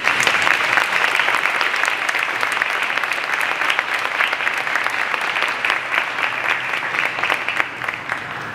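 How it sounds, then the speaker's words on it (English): Sustained applause from an audience at a school's end-of-year honor roll assembly, steady dense clapping that holds loud for the full stretch with no pauses. "We can give a round of applause."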